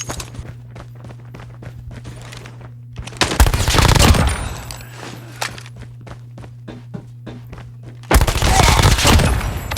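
Gunfire in the mobile shooter Call of Duty Mobile: two loud, sustained bursts of shots stand out against a steady rhythm of footsteps and a low game hum.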